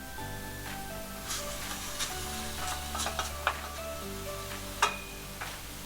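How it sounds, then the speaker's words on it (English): Diced bacon sizzling in a pan during preparation of rigatoni amatriciana: a steady, close crackling hiss with occasional sharper pops, running continuously under a low background hum. "while the bacon is sizzling"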